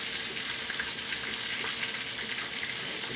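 Burgers fry in a pan, giving a faint, steady sizzle like hissing water. The sound stays even throughout, with no talk over it.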